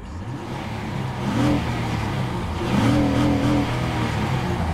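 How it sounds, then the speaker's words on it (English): 2008 Honda Accord EX V6 with 143,000 miles, engine revved while parked: a mid-pitched engine hum swells into two rising revs, the second one longer, then settles back, heard steadily and fairly close. "Revs up very nicely"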